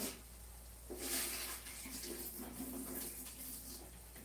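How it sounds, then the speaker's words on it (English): Water being poured off a cooking pot of cornmeal dumplings into a sink, a soft, steady splashing stream that swells briefly and then runs on at moderate volume for a few seconds. "Let's strain off some of the water."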